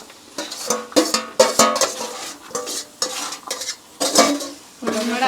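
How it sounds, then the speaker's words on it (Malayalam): A mother stirs fish pickle in a pan, making a close, steady series of scraping, clattering spoon strokes against the metal, with a faint sizzle between the strokes. "അച്ചാർ ഇവിടെ റെഡി ആയിരിക്കുന്നു ഗോയ്സ് അമ്മ ഇളക്കുന്നതാണ്"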